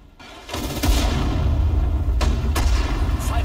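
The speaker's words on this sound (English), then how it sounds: "Mortar! Fire!" Mortar fire in Sudden Strike 4 during the Operation Market Garden mission, repeated heavy booms and sharp reports over a continuous battlefield rumble, loud and close.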